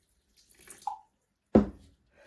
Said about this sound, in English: I'm going to add in more water.